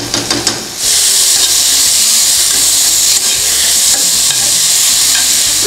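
Tomatoes go into a pot of frying onions with saffron for rougail saucisses, and a sudden loud, steady sizzle and hiss follows. It carries on close up with no one talking.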